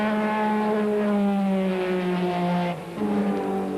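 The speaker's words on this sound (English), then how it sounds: "Just listen to that Ferrari, sounds absolutely gorgeous." A Ferrari racing car at historic racing on the Montlhéry banking in Paris, its engine holding a loud, steady high-pitched howl before the note briefly dips and then climbs again, with no voices.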